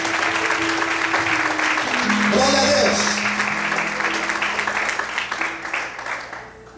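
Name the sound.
congregation applauding in church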